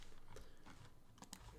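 Keys tapped on a computer keyboard, a few quiet scattered clicks at an uneven pace over a steady low background hum.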